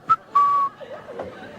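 A narrator imitates a woman whistling: a short high chirp, then one long steady whistled note, followed by a few softer wavering tones, close and fairly loud with no other sound.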